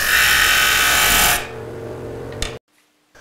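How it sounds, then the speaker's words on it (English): Screw heads ground on their sides with a power grinder, a loud harsh grinding that drops to a lower whir as contact ends, a short scrape, then sudden silence. "Now I'm just going to take these screws and grind the sides of the head"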